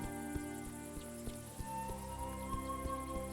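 Crickets chirp in the video game A Juggler's Tale, a steady layered chorus of insect trills, with soft rhythmic ticks and a faint tonal music bed underneath.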